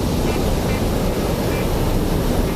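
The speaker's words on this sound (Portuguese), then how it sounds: "Tá muito bom, olha as ondas." Ocean waves breaking at a surf beach, a loud, steady wash of surf with wind rumbling on the microphone and no break in the roar.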